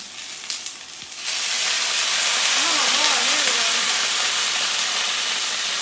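After a brief moment of quiet handling, a loud hiss of water hitting a hot pan of zucchini noodles bursts in and keeps sizzling steadily, with a faint voice underneath.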